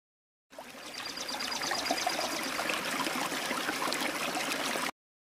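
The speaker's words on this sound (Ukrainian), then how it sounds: "Так, дзюркоче струмочок" Running water flows and gurgles steadily, a stream babbling along without pause at moderate volume.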